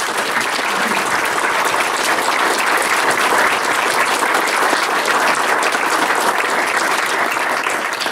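A dense, loud, steady round of applause fills a town meeting room in Plattsburgh and holds evenly throughout, with no pause or fade.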